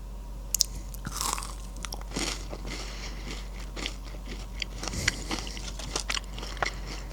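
Crunchy bites and chewing of a Thai cheese cracker snack, a run of close, crisp crackles and mouth sounds spread over several seconds with no talking.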